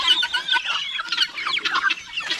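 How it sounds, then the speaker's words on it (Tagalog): Young chicks peep and cheep in a busy, continuous chorus close up, their high calls mixed with some lower clucking, with no talking. "Yung mga sisiw na to, anak pa to sa ating tandang na"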